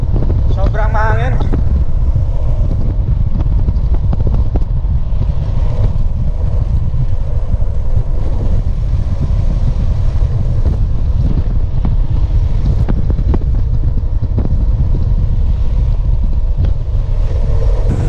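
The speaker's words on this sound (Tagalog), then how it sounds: "Sobrang mahangin." Strong gusting mountain wind in Panitan, Capiz, roaring across the microphone, a constant heavy rumble filling the whole stretch, with a brief voice near the start.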